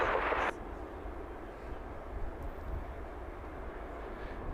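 A Scandinavian airliner landing on the northern runway at Heathrow, a broad steady engine roar at a distance, opening with a brief louder burst of noise, while someone talks over it.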